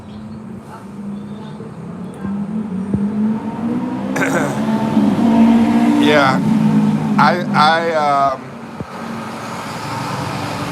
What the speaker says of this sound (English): man, it's loud out here with this traffic at the highway